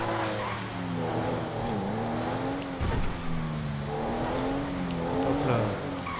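A Porsche 911 Turbo S in GTA 5 brakes and turns, its engine note dropping and rising steadily with a brief tire squeal near the middle, close and continuous with no talk.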